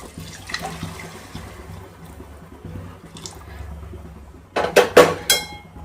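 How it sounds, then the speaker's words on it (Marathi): Hot water is poured into a pot of sautéed rice for chicken pulao; a quiet low background gives way near the end to a few louder splashing gushes. "तर पाणी मी ॲड करते"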